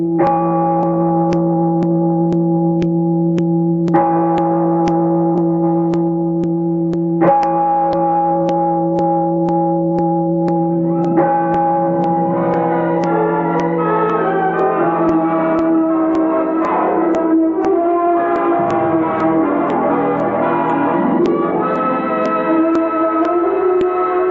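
A church bell in a radio drama tolls loudly several times at slow, even intervals, each ring decaying, before orchestral music swells in beneath it.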